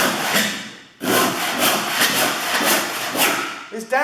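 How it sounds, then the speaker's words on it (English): A hand saw cuts through wood in steady, rasping strokes that repeat at a regular pace and sit close and fairly loud. A voice comes in briefly near the end. "show you the normal cutting action of any carpenter with a saw for wood"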